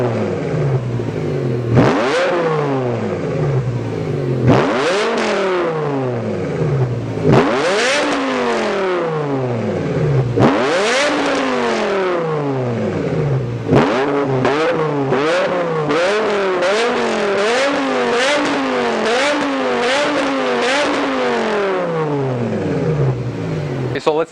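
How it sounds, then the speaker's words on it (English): A BMW E60 M5 engine revs hard through its quad exhaust, loud and close, in repeated rising sweeps that climb and drop, with a quicker run of blips and pulls toward the end. "you should take a listen of what this car sounds like under the load, under the revs."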